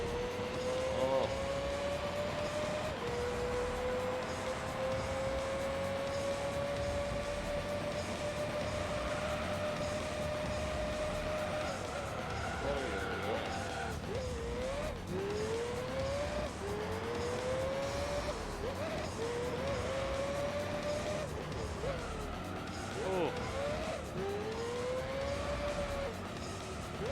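Race car engines in Gran Turismo 3 whine steadily through the race, revs climbing in long sweeps and then dropping in quick shift cycles during the second half, continuous and fairly loud with no talking.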